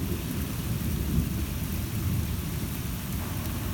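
Deep thunder rumbling through a severe thunderstorm, a low continuous roll swelling slightly midway, layered with the hiss of heavy rain falling on surfaces nearby.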